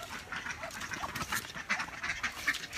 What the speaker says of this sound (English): Muscovy ducks, and some of our ducks are there.